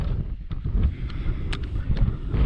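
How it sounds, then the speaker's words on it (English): Strong storm wind buffets a budget tent during wild camping, a constant low roar with gusty swells and flapping rustles, loud and close to the microphone with no speech. "it's windy"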